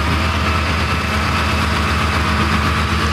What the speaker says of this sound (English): That's old school diesel power there.